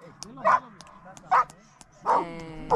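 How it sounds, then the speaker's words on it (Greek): Two dogs bark in short, loud, close yips, four separate barks spaced about a second apart, with a faint hum behind them during an overnight hike near a mountain lake. "γαυγίζει"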